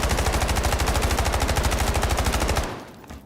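Rapid automatic fire from a K437 rifle in the video game Delta Force, one fast even burst of shots that stops abruptly near the end.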